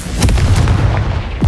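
Confringo fire spell blasts in the Hogwarts Legacy video game, a burst of loud booming explosions with low rumble and sharp crackling transients close together over a second and a half.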